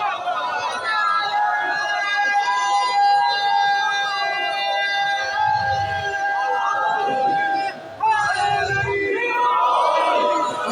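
Crowd chanting slogans at a religious majlis gathering in Multan, a loud massed roar of voices swelling and falling over about ten seconds, with a brief dip near the end.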